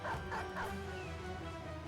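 Dog barks from a Wolf Rider enemy in a video game, a few quick yips and bow-wows close together at the start over a steady game-sound hum.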